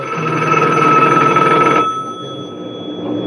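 A telephone rings loudly and steadily with a sustained electronic bell tone, then cuts off partway through, leaving a quieter residual tone, during a casual live hangout stream.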